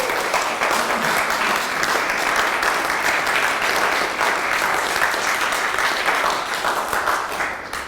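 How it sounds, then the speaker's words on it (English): An audience applauds steadily at a refugee event at the Consulate General of Poland, dense clapping filling the room at even volume before tapering at the end. "that really deserves to be applauded."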